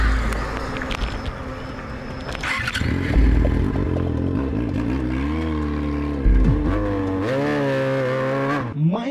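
A nearby motorcycle, borrowed from a friend, runs and revs as it is ridden, its engine pitch rising and falling through several accelerations over a steady rumble.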